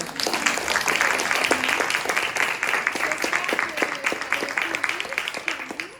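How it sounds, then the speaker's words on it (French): Applause for a speaker at a panel event, a steady round of clapping from the audience with a voice talking over it throughout. "Une petite main d'applaudissement."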